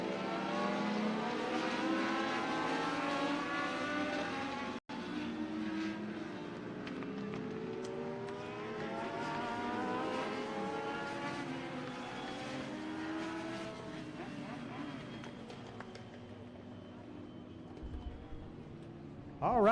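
Legends race cars circle a small track on a July evening, their engines droning and rising in overlapping waves as the pack passes, with a track announcer talking over the noise before it fades toward the end.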